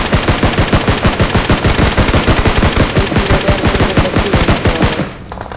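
Rapid bursts of automatic gunfire from a battle royale match crackle close and loud in a steady rhythm for about five seconds, then cut off abruptly.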